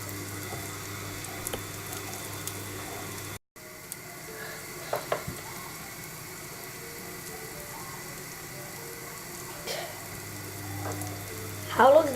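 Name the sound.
American style pancakes cooking in a frying pan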